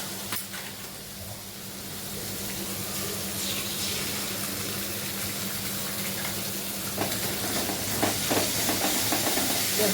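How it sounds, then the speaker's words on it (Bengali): Spice paste with a little tomato sauce fries in a pan with a steady, close sizzling hiss that holds at an even level, alone with no talk. "এখন হচ্ছে মশলাটা কষাচ্ছি"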